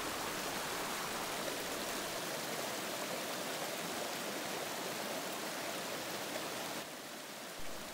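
Rushing mountain stream where two channels meet and crash together, a steady broadband roar of flowing water filling the whole stretch at an even level, close and continuous with no voices.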